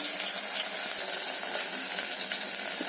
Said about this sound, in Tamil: இதில் சின்ன வெங்காயம் 10, கருவேப்பிலை கொஞ்சம்.